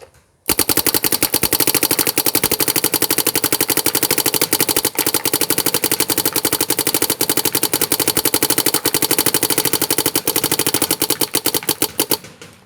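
An HK Army TFX3 paintball marker fires a long, rapid, unbroken stream of paintballs at a filing cabinet draped with a yellow mat, a loud machine-gun-like rattle with rapid impacts running about twelve seconds without talk.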